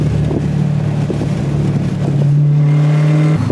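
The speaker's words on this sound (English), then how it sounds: "I don't even think y'all understand how loud this car is right now." A manual Dodge Challenger Hellcat fitted with catless mid-pipes revs from inside the cabin, a deep, extremely loud engine roar that climbs and then holds a steady, droning pitch.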